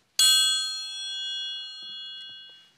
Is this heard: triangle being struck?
yes